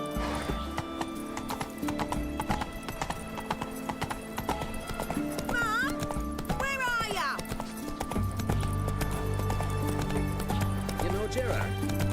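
Geralt's horse Roach from The Witcher 3 trots and gallops with steady clip-clop hoofbeats, a couple of whinnies cutting through mid-way, over busy game music and ambience.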